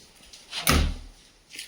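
A door at home is pushed shut with a single dull thud, close and fairly loud, fading quickly into quiet room noise.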